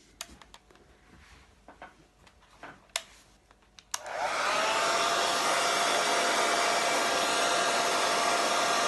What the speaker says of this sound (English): I like to use a brush like this for the blow dryer. Got it in a cool setting.